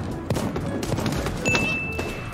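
Gunfire bursts in the cartoon battle royale game Super Animal Royale, several sharp reports spread across a short stretch over a busy game soundscape, with a thin electronic tone near the end.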